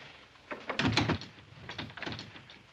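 Knocking on a door in a period western drama, heard as two clusters of dull, muffled raps at moderate volume over low room noise.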